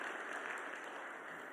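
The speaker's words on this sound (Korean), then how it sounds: "우리 박수로 환영합시다." A church congregation claps steadily to welcome speakers to the front. The applause is short and even-textured, and there is no talking over it.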